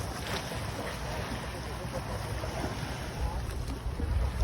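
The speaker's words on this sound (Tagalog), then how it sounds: "Iba na yung galaw ng alon" Steady rushing of waves and wind around a fishing boat ahead of an approaching typhoon, a continuous close roar that swells slightly toward the end.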